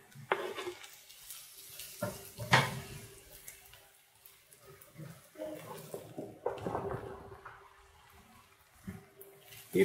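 Mushrooms, onion and carrot frying together in a pan, giving a soft, uneven sizzle with occasional stirring scrapes and utensil knocks, fairly quiet and close, with brief speech in places.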